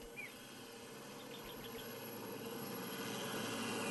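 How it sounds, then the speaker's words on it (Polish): A video game helicopter's steady rotor drone fills the scene, a broad continuous roar that slowly grows louder, with no voices over it. "Helikopter!"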